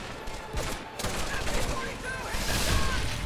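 Heavy game gunfire in Medal of Honor: Vanguard on PS2, a continuous loud barrage with crackling shots under a low rumble and faint background voices.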